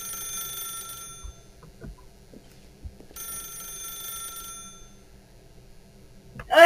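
In The Stanley Parable, an old-style telephone rings in two bursts of rapid metallic bell trills with a pause between, while soft footsteps and thuds sound beneath.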